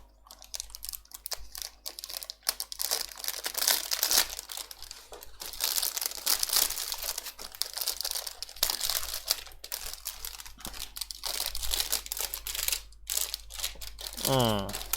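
Plastic bags of parts from a Zvezda Russian Typhoon-K armoured car model kit crinkle and rustle close up for a long stretch, with bursts of handling, sharp crackles and brief pauses.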